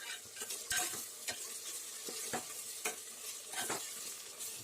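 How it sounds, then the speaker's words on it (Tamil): Ginger garlic paste and onion sauté in a pan, a steady sizzle running through the whole stretch while a spoon scrapes and stirs with repeated sharp clacks against the metal. "இஞ்சி பூண்டு பேஸ்ட்டு போட்டுட்டு அதையும் நல்லா வதக்கிக்கணும்"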